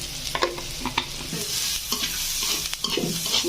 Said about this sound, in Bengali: মরিচ, ধনিয়া, জিরা দিয়ে মিশ্রণ করে নিলাম।